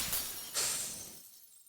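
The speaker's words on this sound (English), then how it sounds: "The sound of shattering glass echoes through my body." Glass shatters as a sound effect in the visual novel game Tsukihime, a bright crashing burst followed by a second louder shattering hit that rings out and fades into silence, with no voices.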